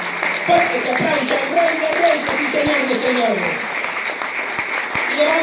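Energetic applause from a church congregation in Mexico City during a sermon, dense clapping with scattered cheers and shouting voices mixed in throughout.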